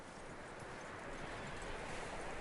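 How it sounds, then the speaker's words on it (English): Horse hooves clip-clop in a PS4 video game, a faint, continuous patter of steps under a soft background hiss, with no voices. "That looks like a decent horse. You should keep him."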